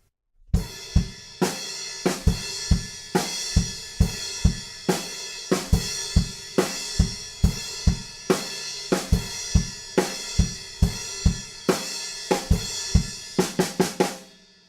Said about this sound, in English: In this chorus, we're going to add that one extra kick drum at the end of the bar